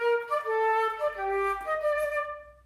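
A single melodic instrument plays a short phrase in a long-short dotted rhythm, clear sustained tones stepping downward, close and unaccompanied, fading out at the end.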